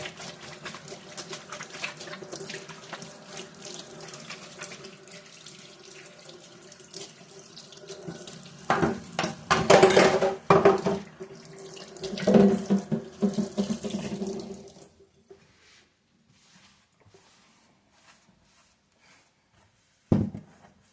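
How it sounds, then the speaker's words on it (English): Hands being washed under a running kitchen sink tap, a steady stream of water splashing for about fifteen seconds with louder bursts midway, then stopping, with a brief clunk near the end. "I'm gonna wash my hands real quick"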